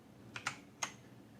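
Keys clack on a Roccat RGB computer keyboard, three quick, crisp keystrokes, two close together and one after a short pause, close but quiet in a still room.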